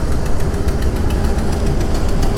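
A motorcycle engine runs close by on a mountain road trip in Uttarakhand, giving a loud, steady, unbroken rumble throughout.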